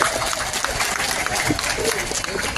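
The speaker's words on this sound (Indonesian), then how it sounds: "Tepuk tangan untuk Pak Haji Sarjan." Crowd applause at an inauguration ceremony for a widened toll road exit in Gabus, Bekasi, a dense steady clatter of many hands filling the space throughout, loud and continuous.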